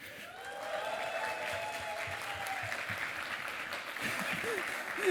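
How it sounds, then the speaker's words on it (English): Sustained audience applause greets two guest artists at a PonyCon Holland 2021 convention art panel, a dense, steady wash of clapping throughout, with faint voices and whoops mixed in near the end. "Give me a very big round of applause for Imalou and AssasinMonkey."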